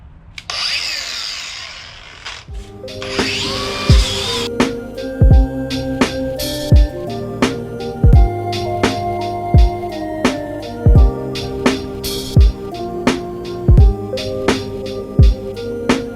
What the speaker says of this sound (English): there's the grinder, there's the wire wheel. Let's clean this thing up.